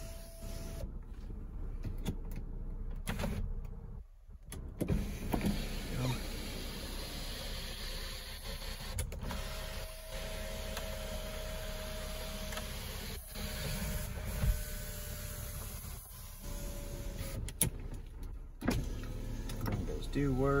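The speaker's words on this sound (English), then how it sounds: "I'll show you the panoramic sunroof. Goes all the way up to the back." Electric motor whir of the panoramic sunroof on a 2014 Kia Sorento sliding open inside the cabin, a steady mechanical drone lasting many seconds with a few clicks and brief pauses along the way.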